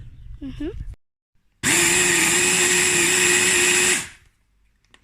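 A kitchen blender whirs loudly and steadily for about two seconds as it blitzes herbs, including mint, into a chunky salsa. A brief voice speaks just before the motor starts, and the blender stops abruptly.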